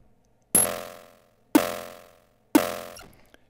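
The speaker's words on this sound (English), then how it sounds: "you can hear it gets that nice wooden sound at the beginning of the snare drum" Three snare hits synthesized on a Teenage Engineering OP-Z, spaced about a second apart, each a sharp woody crack followed by a decaying ring, alone.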